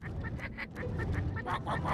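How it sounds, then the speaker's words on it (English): Skylanders video game bird villain Cuckoo Clucker singing badly alongside a flock of birds, a string of repeated honking, squawking cartoon bird calls in an uneven rhythm, fairly close and moderately loud. "a bunch of birds need help to sound better, so Cuckoo Clucker joins them to"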